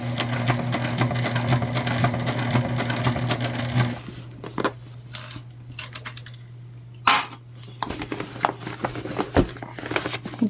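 A sewing machine stitches a book bag tote, whirring steadily at close range before stopping and restarting in short bursts mixed with clicks and small handling sounds.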